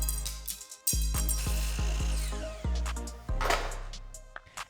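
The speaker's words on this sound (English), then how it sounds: "So let's use the miter saw instead." A miter saw cuts a metal drawer rod to length: the motor spins up abruptly with a loud whine, holds through a short series of rhythmic bites into the rod, then winds down to quiet.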